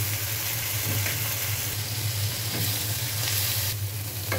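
Instant noodles with egg and tomato are tossed and fried in a pan, a dense, loud, close sizzle with continuous stirring scrapes and occasional utensil taps, no voices.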